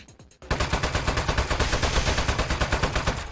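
Turret gunfire in the video game Aperture Desk Job: after a brief few ticks, a loud, rapid, continuous burst of automatic shots rattles on steadily for about three seconds, close and alone.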